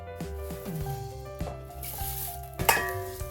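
Beaten rice (aval) crackles and sizzles in hot oil in a strainer while deep-frying, a steady frying hiss punctuated by light clinks of metal against the pan.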